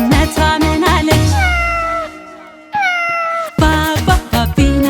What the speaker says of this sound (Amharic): አንተን እያየች ድመቷ ምን አለች?